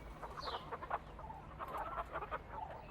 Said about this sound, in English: Of course we have. They all clucked.